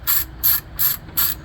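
Hand ratchet turning bolts on a car's water pump during a replacement, four crisp clicking bursts in an even rhythm, loud and close.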